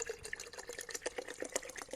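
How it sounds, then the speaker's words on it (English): Purified bottled water pours into a water jug close up, a quiet continuous trickle with bubbly gurgles and small splashes in an irregular rhythm. "that is the sound of my birthday water jug getting filled"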